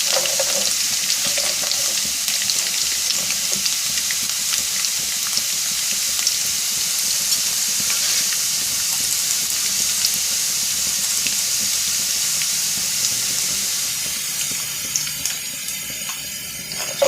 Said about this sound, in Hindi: प्याज को हल्की ब्राउन करेंगे।